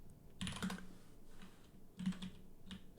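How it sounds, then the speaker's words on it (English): Typing on a computer keyboard while entering a chart label: a few quiet, scattered key taps in two brief clusters close to the microphone, with soft clicks between them. "And after this bracket, we're gonna type in home run."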